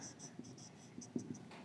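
An equation written out by hand, heard as short scratchy pen strokes in a quick uneven rhythm, close and fairly quiet, with a faint voice in the background.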